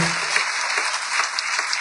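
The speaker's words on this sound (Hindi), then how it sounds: "मैं चाहूंगा इनके लिए जोरदार ताली आप सबकी तरफ से बजनी चाहिए।" An audience at a teachers' honour and merit scholarship ceremony claps vigorously for a Lok Sabha MP. The applause is a dense, even wash of many hands, sustained throughout with no talk over it.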